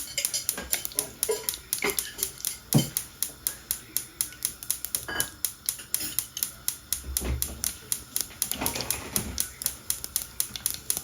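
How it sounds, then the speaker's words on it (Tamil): Mustard seeds and urad dal splutter in about two tablespoons of hot oil while tomato rice is being cooked, giving quick, irregular crackling pops against a low, quiet background. "இப்போ இதோட வந்து நான் கடுகு உளுந்து வந்து கொஞ்சம் சேர்க்கிறேன்"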